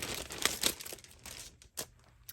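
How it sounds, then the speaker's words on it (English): Crinkling plastic packaging around a scrapbooking paper kit, handled close by in a few short crackling bursts with quieter rustling between. "My apologies for the crinkling, unless you really like that sound."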